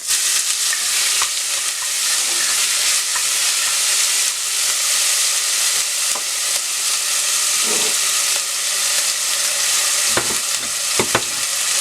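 Onion and garlic frying loudly in a pan with cinnamon, pandan and curry leaves, a strong continuous hissing sizzle with intermittent stirring scrapes, close and unbroken, no voices.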